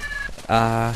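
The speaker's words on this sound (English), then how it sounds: "So this is the sound of the harpies." A short, shrill harpy cry from a Percy Jackson video game mod, with a harsh, warbling tone that rises suddenly and rings briefly, like a screeching bird-like monster.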